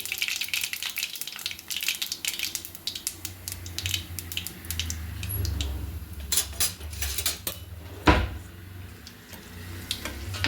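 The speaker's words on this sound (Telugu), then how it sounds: "ఎండుమిరకాయ బాగా వేగించండి" Dried red chillies and mustard seeds fry in hot oil with a continuous crackling sizzle, overlaid by frequent metal utensil scrapes and clinks against the pan, fairly close and loud.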